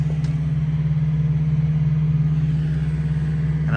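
A 1969 Chevrolet Nova with a 396 V8 idles after start-up, a loud, close, steady low rumble with an even throbbing pulse, lasting throughout without a break.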